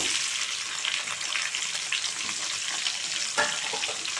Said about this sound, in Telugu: ఇవి కూడా కొంచెం గోల్డెన్ కలర్ వచ్చేలా ఫ్రై చేసుకోవాలి.